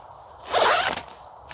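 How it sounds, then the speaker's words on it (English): A zipper drawn shut across a bag of seed in one quick, close rasping pull of about half a second, with only faint outdoor quiet around it. "Zip that up so we don't spill any more."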